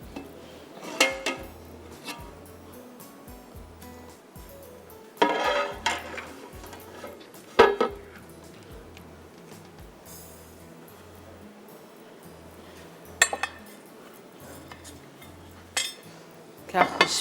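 Biryani being served out, with metal serving spoons and utensils clinking and scraping against dishes and pots in scattered bursts, quiet stretches between them.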